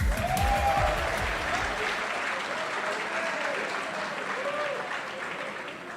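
An awards-ceremony audience gives a sustained round of applause as the MVP athletes leave the stage, dense clapping that is steady and fairly near, slowly easing off toward the end, with faint voices and vocal murmurs blended in.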